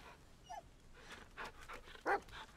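A dog pants in the video game The Medium, quick breathy bursts scattered across a quiet stretch, with one louder, sharper huff near the end.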